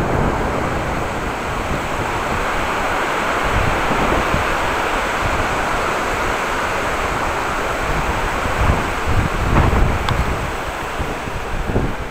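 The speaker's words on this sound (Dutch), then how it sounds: "There is a lot of wind today." Strong, steady wind in a park in Groningen buffets the microphone without pause, a dense roar with occasional gusts and no voices.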